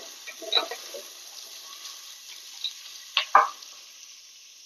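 Onion and coconut pieces frying in a pan for beef curry, a quiet background sizzle broken by a few soft scrapes and stirring clicks, close by.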